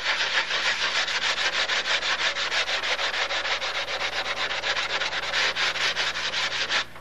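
Rapid, steady back-and-forth scraping of a sanding block against the wood of a Brodak Cardinal model airplane wing, a continuous rhythmic rasp that stops abruptly near the end.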